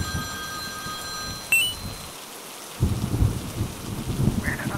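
A cartoon storm has steady rain hissing over faint crackles and a sharp strike near the middle, then a brief hush before low thunder rumbles back and rolls on beneath the rain.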